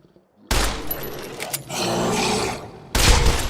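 Video game gunfire from Fallout 76 Wastelanders rattles in loud bursts, a dense volley followed by a sustained stretch of fire and another burst at the end.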